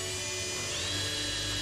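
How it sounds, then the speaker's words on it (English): A steady high-pitched whine of a power drill with a standard bit boring a hole for an RV clearance light connector, close and continuous for under two seconds with no speech. "I just made a hole with just a standard drill bit"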